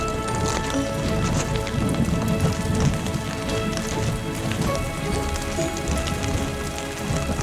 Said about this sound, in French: je me prends la grêle